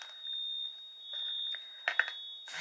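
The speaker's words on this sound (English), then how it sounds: "My smoke detector done started tripping." A home smoke detector sounds two long, steady high-pitched alarm tones, moderately faint, followed by a few sharp clicks and knocks.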